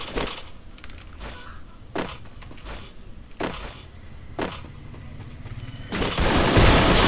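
Gunfire in a shooter video game, with spaced single bursts at a steady rhythm, fairly loud and close, ending in a sustained noisy rush, no talk.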